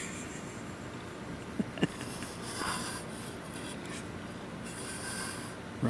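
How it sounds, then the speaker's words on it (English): An animal rubbing its face against a camera, producing soft close scraping and brushing with a few small bumps, quiet and without talk. "Rubbing the camera with his face."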